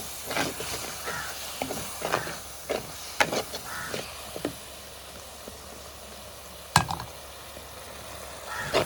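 A spoon scrapes and stirs a sweet flour mixture for modak in a hot pan, giving repeated close scraping strokes over a faint sizzle, then a sharp knock, with no talking.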